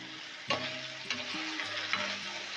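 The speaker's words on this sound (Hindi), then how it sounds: "इसके साथ इसकी भुनाई करेंगे 2 से 4 मिनट" Liver (kaleji) masala sizzling and frying in a pan while being stirred, with a steady sizzle broken by a few sharp scrapes and clinks of the spoon against the pan.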